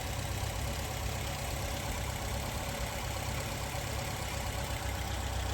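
A restored Mercedes 190SL engine idles steadily at around 1100 RPM, a low, even mechanical rumble heard up close and alone with no break in its tone.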